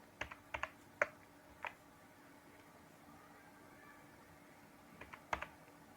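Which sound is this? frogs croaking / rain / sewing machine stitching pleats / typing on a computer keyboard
typing on a computer keyboard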